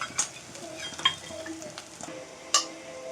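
Onions fry in a pan with a tablespoon of pepper powder while being stirred, giving a quiet continuous sizzle broken by a few sharp spoon scrapes and clinks against the pan.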